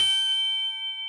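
A single bright bell ding rings out clearly and then sustains with a shimmering, slowly fading tone.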